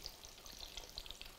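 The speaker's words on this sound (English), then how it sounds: "And deep fry until it's golden brown." Skewered ingredients for kushi age deep-fry in hot oil, giving a steady, soft crackling sizzle with small pops, close by and alone.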